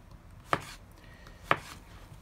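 A knife chops peppers and potatoes for a vegetable stir fry on a cutting board, two distinct, close thuds about a second apart over a quiet kitchen background.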